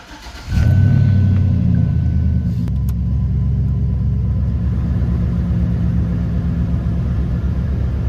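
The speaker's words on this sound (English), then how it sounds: "The truck, it's running smooth." A 2007-2014 Chevy Silverado pickup truck engine starts up with a short surge, then settles into a steady, smooth, close, low idle rumble that continues to the end with no talking.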